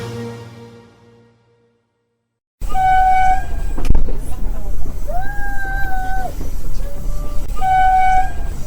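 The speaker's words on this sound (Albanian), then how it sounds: "Buria që sapo e dëgjuat ka shënuar udhëtimin me një tren të pazakon" A heritage train sounds its horn during a special weekend journey in Kosovo, loud sustained tones rising and falling over a rumbling background of the moving train.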